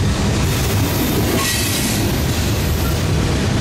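A CN mixed freight train with locomotives rumbles past close by beside a Via Rail station in Sarnia, Ontario, in a continuous loud roar, with steady rolling wheel noise and no voices.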